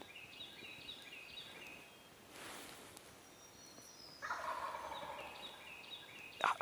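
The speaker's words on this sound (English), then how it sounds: "It feels like he's casting his gobble this way" A wild turkey gobbles from its roost at dawn on a Tennessee public-land ridge, the calls faint and distant over a quiet outdoor background, with a louder rustle or closer burst near the end.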